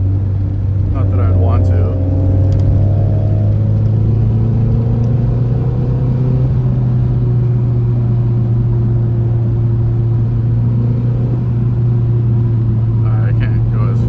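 Nissan 240SX engine drones loud and steady while driving, pitch shifting as it downshifts, with someone talking briefly over the engine noise.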